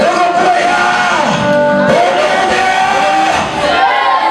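A church congregation raises a loud, sustained acclamation of shouts and whoops, a dense wall of voices with a singing tone running steadily throughout.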